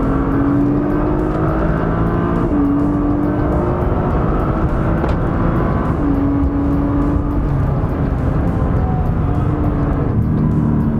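A Nissan GT-R engine runs hard on a dyno, a loud sustained roar with shifting tones held steadily throughout, no talk.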